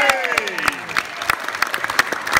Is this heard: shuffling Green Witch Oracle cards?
no